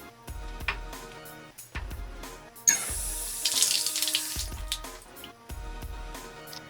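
Water runs from a tap over a waxed lacrosse mesh, a steady hiss of flow broken by repeated low thuds and splashes as the mesh is moved under the stream, close and fairly loud.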